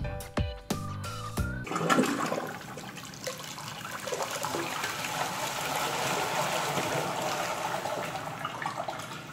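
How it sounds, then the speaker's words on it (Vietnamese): An INAX one-piece toilet on heavy flush opens with a click and a chime, then a loud rushing swirl of water that settles into a steady, continuing flow. "Tiếp theo mình sẽ nhấn xả nặng."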